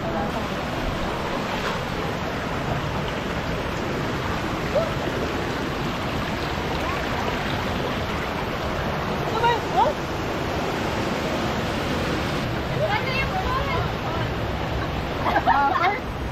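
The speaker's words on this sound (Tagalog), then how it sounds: "Guys, this is the falls." A waterfall roars as a constant, broad rush of falling water close by, filling the whole stretch with a few faint voices in the background.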